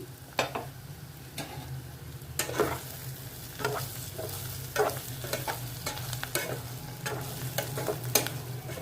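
Bitter gourd (kakarakaya) frying in a pan with onion and spices, a constant sizzle broken by repeated scraping and clacking strokes of a spatula, close and fairly loud with no talk.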